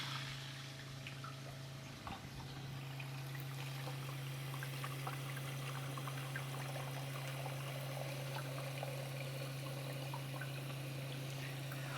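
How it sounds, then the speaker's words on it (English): A TOTO Aurora Washlet+ toilet tank fills with water after the supply is turned on, giving a steady close rushing and trickling hiss with a constant low hum throughout, no voices. "now we can turn on the water, watch the tank fill,"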